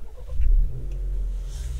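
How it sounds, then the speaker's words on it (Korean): A 2022 Maserati Levante Hybrid SUV engine cold-starts close by, a brief surge of revving that settles into a low, steady idle rumble, heard through laminated glass. "먼저 시동 한번 걸어보겠습니다"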